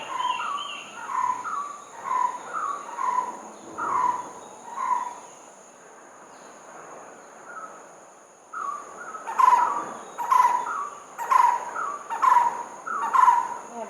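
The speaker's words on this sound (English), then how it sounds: "Beautiful birds here" Morning birdsong in Sri Lanka: repeated clear chirping phrases in close succession, with a quieter pause in the middle, over a steady high insect-like hum, moderately near and with no talk.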